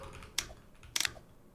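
Premium keyboard typing in a Roblox game: two crisp clicky bursts, one single keystroke and a quick rattling cluster, close and distinct over a quiet background.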